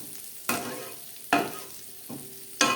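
Grated coconut frying in hot oil for a vegetarian chana dal, with sharp sizzling bursts flaring up four times, each one fading back to a quieter, steady crackle.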